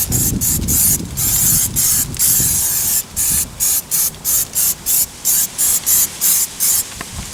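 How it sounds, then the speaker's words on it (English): Rustproof coating sprayed onto a lawnmower from an aerosol can, close hissing bursts, one long spray followed by a rapid series of short even puffs. "You're going to want to get your machine sprayed."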